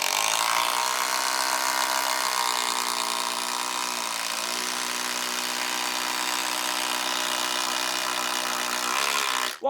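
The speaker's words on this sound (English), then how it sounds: "we're going to go back to the long 250 screws and screw them through" A power driver runs long 250 mm screws into a timber joist for a garden room base on piles: a loud, continuous motor whine for nearly ten seconds, pitch dipping briefly midway, then cutting off abruptly.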